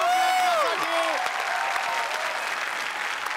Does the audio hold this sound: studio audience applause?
yes